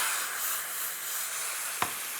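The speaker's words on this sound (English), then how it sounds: "And now we can deglaze this with some sherry" A pan of mushrooms and garlic hisses with a steady, close sizzle as sherry goes in to deglaze it, and a brief clink or splash sounds near the end.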